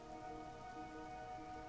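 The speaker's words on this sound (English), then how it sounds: "That's a whole bunch of rain." Steady, dense rainfall in World of Warcraft (Legion), an even wash of patter with a faint tonal background, no voices.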